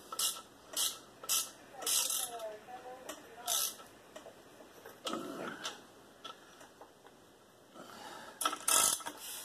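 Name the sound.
ratchet tightening connecting rod cap on Chevy 350 engine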